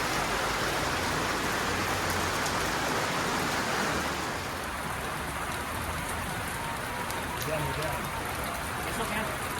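Steady heavy rain pours down outside a village mosque, a dense continuous hiss that stays loud throughout, easing slightly partway through, with no pauses.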